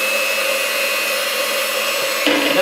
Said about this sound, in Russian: Это мы взбиваем сливки.